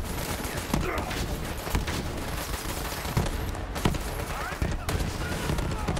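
A sentry gun in the video game Borderlands 3 fires a dense, continuous stream of automatic gunfire, punctuated by sharper individual cracks and impacts, loud and close, with game noise and voices mixed in.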